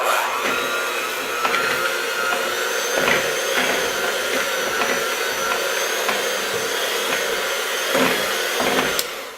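An electric mixer runs steadily and loudly while kneading yeasted paczki dough of flour, milk and yeast, with a constant motor whine, no speech and small fluctuations as the dough turns.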